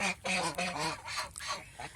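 Several geese honk and quack in quick overlapping bursts, fairly faint and a little distant, a flock calling on a goose farm.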